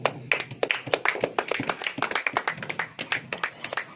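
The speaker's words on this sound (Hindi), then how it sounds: "ताली बजेगी कि नहीं?" Rhythmic hand clapping from a church congregation during an open-air gospel sermon, a quick run of distinct, fairly close claps with a faint voice in the background.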